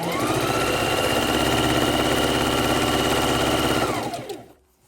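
Sewing machine running steadily while stitching quilt pieces for four patches and flying geese, a continuous close whirring hum that stops abruptly near the end.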